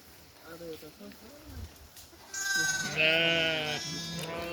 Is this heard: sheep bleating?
yes